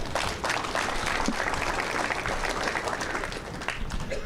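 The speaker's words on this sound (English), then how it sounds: "Let's give them a round of applause one more time." A banquet audience at an awards ceremony gives a steady, dense round of applause that holds at an even level throughout, heard from a distance without talk.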